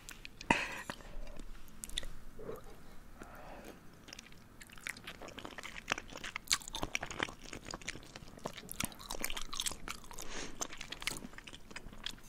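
Close crunching and chewing of spicy instant noodles in a whispered ASMR eating challenge, steady wet bites and crunches continuing throughout.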